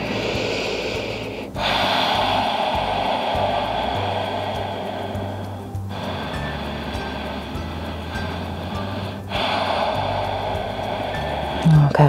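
Slow, deep breaths during a yoga session: three long airy inhales or exhales of several seconds each, separated by brief pauses, close and fairly loud with no speech.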